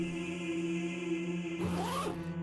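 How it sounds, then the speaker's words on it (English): A body bag zipper pulled in a horror video game, a single close rasping zip lasting about a second over a steady ambient hum. "the zip makes a familiar zzz sound"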